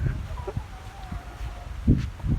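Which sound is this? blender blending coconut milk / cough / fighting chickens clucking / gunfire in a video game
fighting chickens clucking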